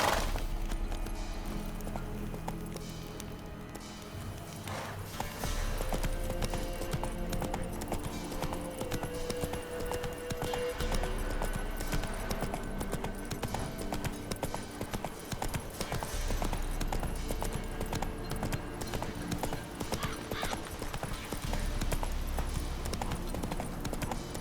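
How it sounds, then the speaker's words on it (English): Horses gallop in The Witcher 3: Wild Hunt, a rapid, steady clip-clop of hooves, loud and close, with a brief whinny and a dense rumbling game-style mix behind them. "horses racing."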